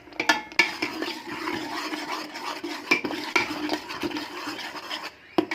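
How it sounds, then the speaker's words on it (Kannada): A spoon stirs salt and turmeric into spiced country chicken sambar in a pot, with metallic clinks and scrapes against the pot over a faint low sizzle, close and moderately loud. "ನೀಟಾಗಿ ಮಿಕ್ಸ್ ಮಾಡ್ಕೊಳ್ಳೋಣ"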